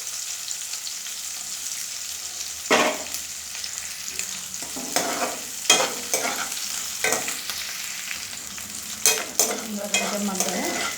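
Green chillies sizzle and fry in a pan while cooking alasanda guggulu, with steady frying hiss and several stirring scrapes and clatters, close and fairly loud, no talking.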